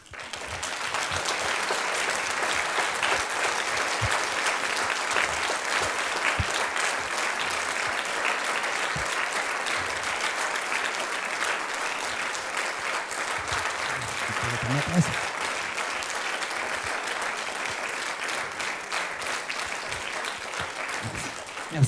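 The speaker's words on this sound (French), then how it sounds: "Je me suis permis d'enregistrer vos applaudissements" Sustained applause from a large crowd at a public debate in Briare, steady and dense throughout, with a few brief voices faintly mixed in.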